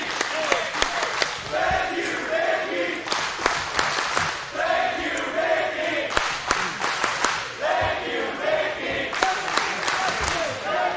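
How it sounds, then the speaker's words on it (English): Wrestling crowd at an IWA Mid-South King of the Deathmatches show in 2006, loud and steady, with rhythmic chanting bursts, whoops and scattered clapping rolling through the arena for the full stretch. "crowd is just fucking loving it and breaks out into a thank you, Mickie chant."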